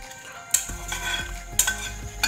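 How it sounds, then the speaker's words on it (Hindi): Dry chillies roasting in a hot pan for a potato and sesame chutney, with close scraping stir strokes and soft sizzling, three sharper clatters of a spoon against the pan standing out, no talk. "और मिर्च को करते हैं रोस्ट। इसको ज़्यादा देर तक नहीं करना, थोड़ा थोड़ा होने दीजिए।"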